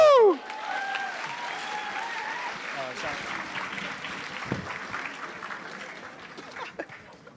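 Audience applause at a Brandeis MELA student cultural show, steady clapping from a crowd sustained for several seconds after a brief whoop, fading slightly toward the end.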